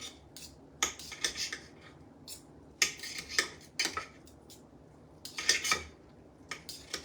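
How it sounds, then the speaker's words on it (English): Knife and fork clinking against a bowl while chicken is cut into bite-size pieces for a yum yum chicken rice bowl, a series of sharp scraping and tapping bursts in irregular clusters, close by with no talk. "I'm going to cut up my chicken already into like bite sizes."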